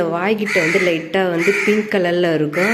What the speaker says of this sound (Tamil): இப்போ அது குட்டி கூட்டின்னு வந்து அந்த குட்டி தான் கத்துது.